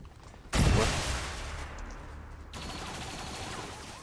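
A mind-controlled alien in XCOM 2 opens fire on its own side: a sudden loud burst of gunfire, then a long ringing tail, followed by a second, quieter stretch of firing.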